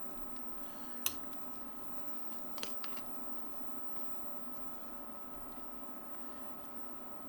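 Turkey stock coming to a boil in a pot, a soft, steady bubbling murmur with a couple of faint clinks, quiet and close.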